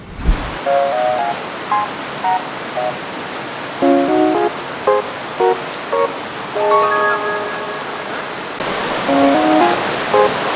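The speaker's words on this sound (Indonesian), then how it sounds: "Apa yang berisik? Sungainya." A river rushes past a camping spot. Its steady broadband roar fills the background while people talk briefly over it in short snatches.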